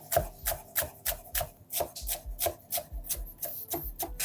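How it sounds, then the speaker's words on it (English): A knife slices cucumber into strips on a cutting board with light pressure, about a dozen crisp, close cuts in a steady, even rhythm, heard alone. "I'm using really light pressure to cut these strips before I go across it and chop it."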